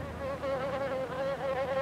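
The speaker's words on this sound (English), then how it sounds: "There's a wasp!" A wasp buzzes close by with a steady, loud, wavering drone that runs unbroken throughout, and no voices are heard over it.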